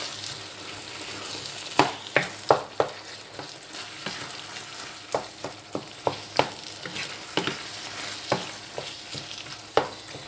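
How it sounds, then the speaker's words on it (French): Food frying in a pan with a little chili is stirred, with a steady sizzle underneath and a run of sharp, irregular scraping knocks from the utensil, fairly close and moderately loud. "Et on mélange tout."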